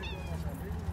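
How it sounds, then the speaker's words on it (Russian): A cat at a fish market in Glyfada gives a short, clear meow up close, over the noise of a busy market and nearby voices. "Кот мяукает."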